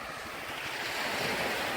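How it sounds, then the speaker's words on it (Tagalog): Strong ocean surf rolling onto a beach in Morong, Bataan, a steady broadband roar with gusting wind noise on the microphone, close and loud throughout with no voices. "Medyo malakas yung alon nga."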